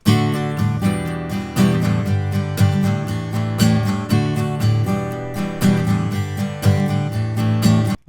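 Acoustic guitar strummed steadily through a microphone, full and resonant, with rhythmic chord strokes ringing continuously and no voices.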